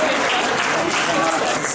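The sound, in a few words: crowd applauding Olympic medalists at Queenstown Airport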